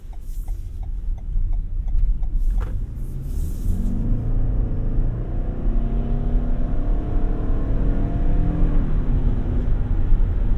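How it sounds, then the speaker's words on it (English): 2023 Toyota Highlander Hybrid XLE AWD driving and accelerating, with a steady low road rumble and a faint rising CVT whine sweeping upward, plus a few light ticks early on. "The transmission, the CVT is pretty smooth. It does whine a little bit"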